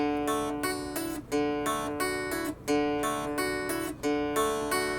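Guitar notes struck in short, choppy bursts, each chord ringing briefly before being cut off, in a steady repeating rhythm with no talking.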